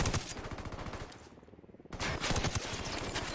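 Rapid bursts of Mk 18 rifle fire in a video game on extreme difficulty, loud dense volleys that break off in a brief lull near the middle, then resume just as hard.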